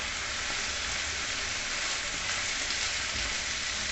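Rice simmers in a pot of salted boiling water, giving a steady, dense bubbling hiss that runs evenly throughout without pauses or voices.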